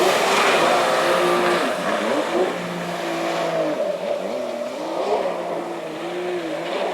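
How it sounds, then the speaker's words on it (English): Yamaha Superjet jet ski with a three-cylinder engine and Riva exhaust, running loud with shifting revs and a raw, throaty rumble, heard alone. "the engine noise sounded much more raw and preserved the deep rumble that I love from a 3-cylinder engine"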